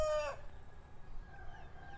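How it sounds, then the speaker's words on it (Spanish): A rooster crows at seven in the morning, a single loud crow that breaks off early and is followed by fainter crowing and clucking from other fowl further away, over a steady low outdoor rumble. "Creo que mis gallos gritan más fuerte que yo."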